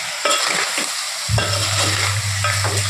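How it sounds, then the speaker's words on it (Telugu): Mutton keema fry tossed in a hot pan, a steady loud sizzle with scraping stirs of the spatula at regular intervals, close up and without any talk. "ఇప్పుడు దీన్ని మొత్తం మనం కలిపేసుకొని ఇట్లా మంచిగా మిక్స్ చేసి"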